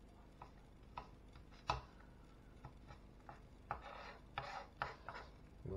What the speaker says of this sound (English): Same with the ginger, just slice them up.